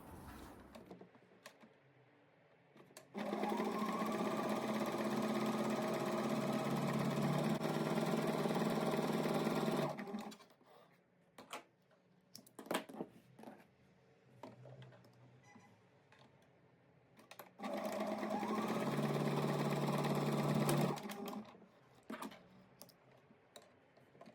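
A sewing machine stitching the front-to-back shoulder seams of a shirt runs in two steady motor-driven bursts, a long one then a shorter one, separated by quiet handling clicks.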